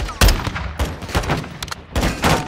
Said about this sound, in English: God damn it, you guys started shooting.